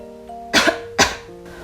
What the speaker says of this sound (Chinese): 我咳嗽。